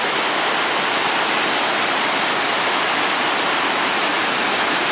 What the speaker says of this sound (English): Oh, look at rapids coming up. That's a little waterfall.